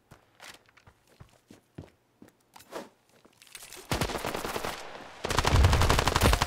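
Gunfire in the mobile shooter Standoff 2 follows a run of soft in-game footsteps; rapid automatic bursts erupt loud and close, then a longer sustained volley dominates the end.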